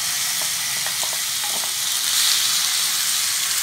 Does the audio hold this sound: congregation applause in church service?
no